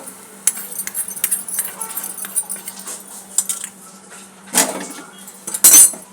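Sambharo mixture is stirred in a metal pan with a spoon, giving bright repeated scrapes and clinks in an uneven rhythm, close and fairly loud, with a couple of sharper metallic knocks toward the end.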